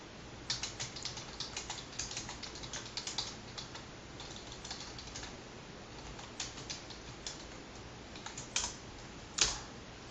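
Someone types Java code on a computer keyboard in quiet, continuous rapid clicks, with a few firmer keystrokes near the end.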